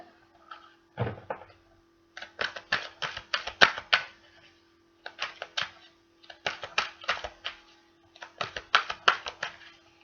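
Tarot cards shuffled by hand, close and crisp, in repeated bursts of rapid riffling clicks separated by short pauses.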